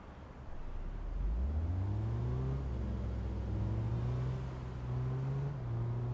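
A car engine in the Big Ambitions video game hums steadily, rising in pitch as it pulls away and accelerates, then holding a smooth mid-range drone with slight pitch shifts, clear and alone.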